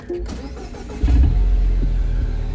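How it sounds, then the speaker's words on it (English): A 2013 Mini Cooper S Coupe engine cranks and fires up nearby on a hot day, a short starter whir followed by a loud settling idle rumble. "We're gonna start up the Mini"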